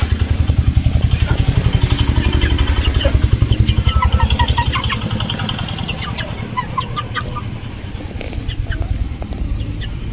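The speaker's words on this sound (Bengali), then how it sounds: "আমার শাশুড়ির মুরগিগুলো দেখো কত বড় হয়েছে" Large hens kept by a family in rural Sundarbans, clucking and calling in a steady scatter of short notes close by, over a constant low engine-like rumble.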